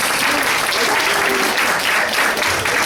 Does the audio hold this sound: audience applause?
yes